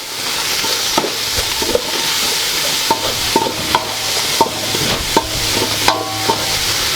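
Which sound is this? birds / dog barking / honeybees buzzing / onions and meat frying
onions and meat frying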